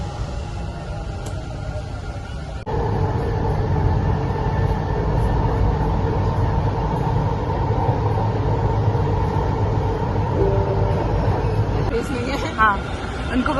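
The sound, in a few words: metro train at station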